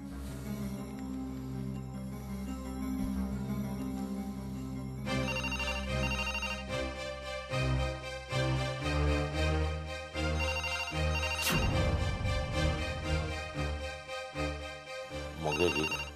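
A phone ringtone plays loud and continuous, a melodic looping tune with layered tones that keeps going without pause and has no talk over it.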